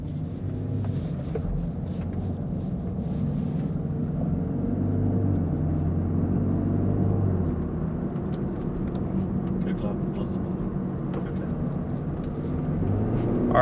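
A 2022 Land Rover Defender Heritage Edition accelerates on a highway, its engine and road noise forming a steady, loud low rumble that builds slightly over the run, with occasional faint speech on top.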